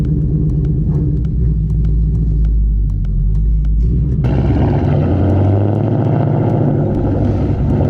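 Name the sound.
Ford Mustang S550 Coyote V8 pulling away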